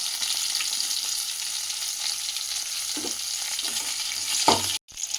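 Green chillies and garlic fry in a pan for a tomato chutney, giving a steady bright sizzle with a few stirring scrapes, then a brief cut near the end.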